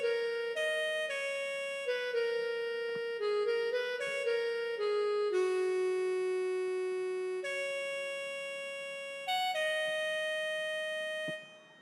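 A synthesized video game melody of clean, bright, tone-like notes steps through a simple pattern, some quick and others held, moderately loud and alone with no talking.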